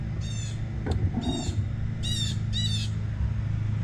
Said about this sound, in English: you hear that nasty blue jay?